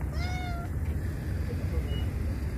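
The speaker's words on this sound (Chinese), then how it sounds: "这野猫很多。 他也不怕人，随便叫着过来的。" A feral cat meows once, a clear drawn-out call over a steady low rumble of traffic or engine noise at an outdoor fishing spot, with faint fainter sounds afterward.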